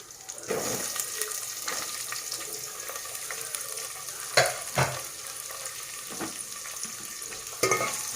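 Chopped onions and green chillies sizzle in hot oil in a pan while being stirred, a steady frying hiss close up with occasional scraping clinks of the spoon, no talk.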